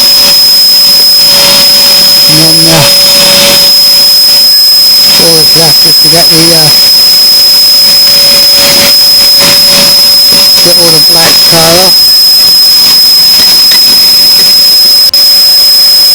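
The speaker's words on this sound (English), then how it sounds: "The vacuum cleaner must have shut up." A loud vacuum cleaner roars continuously with a high steady whine while cleaning glass bits from a Ford Escort van, as someone talks over it in bursts.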